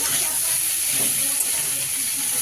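Cauliflower and potato pieces frying in oil tempered with whole spices give a continuous, moderately loud hissing sizzle with no break across the short stretch.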